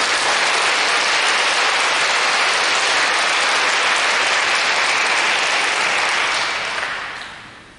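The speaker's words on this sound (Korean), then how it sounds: "박수로 맞이하겠습니다." Dense, loud applause from a big audience at a church mission rally fills the air, steady throughout before fading away at the end.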